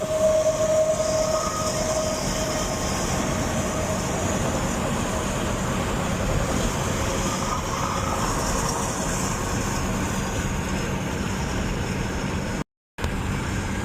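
A semi-truck passes by outside, a loud steady roar of engine and tires that holds for over ten seconds with hardly any change and no voices over it.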